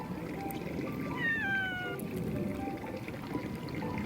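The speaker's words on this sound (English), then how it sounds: "Stop meowing, it's not gonna help you." A cat gives a single drawn-out meow over steady background noise like trickling water, fairly faint and a little distant.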